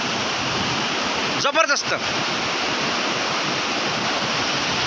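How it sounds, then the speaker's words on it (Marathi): Nira river in flood, fast floodwater rushing in a constant loud roar throughout, with a man's brief exclamation breaking in near the middle. "बघा पाण्याला गती किती आहे"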